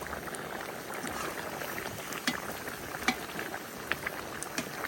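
Plov simmers in a kazan cauldron with meat cooking in it, a steady low bubbling and soft sizzle broken by a few small pops, close by with no talk.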